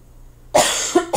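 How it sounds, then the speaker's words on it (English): A quiet pause, then a burst of harsh coughing, two or three close, loud coughs in quick succession. "I'm going to cough."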